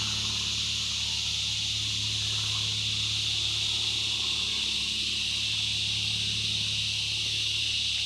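Red cicada buzzing in one continuous, shrill, even drone at steady volume, with a low hum underneath and no pauses.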